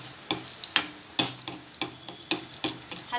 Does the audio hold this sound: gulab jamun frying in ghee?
yes